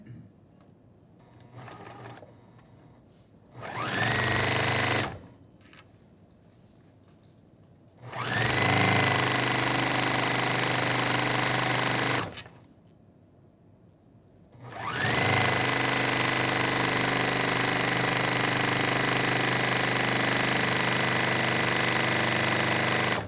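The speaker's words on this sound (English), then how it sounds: "So I'm sewing with the 1/4 inch seam." A sewing machine stitches a 1/4 inch quilting seam in three bursts of steady, loud motor whirring, each several seconds long, separated by quieter pauses with faint talk and handling sounds.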